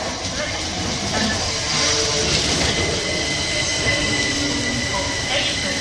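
A Southern train arrives at Watford Junction station, its loud, dense rumble and rail noise filling the platform with faint wheel squeals. A voice is heard faintly under the noise.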